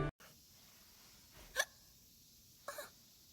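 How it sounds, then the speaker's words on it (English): A cartoon character hiccups twice, in short sharp bursts spaced about a second apart over a quiet background. "Oh, Loopy has the hiccups now."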